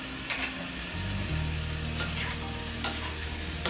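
Rice frying over a high flame with soy sauce while being stirred, a steady close sizzle broken by scraping stirs of the spatula against the pan.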